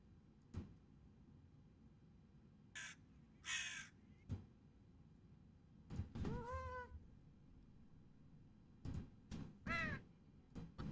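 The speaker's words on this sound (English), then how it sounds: "Epic crow sound." A video game crow caws in scattered bursts, harsh raspy calls in short clusters separated by quiet gaps, near and fairly loud over faint low background noise.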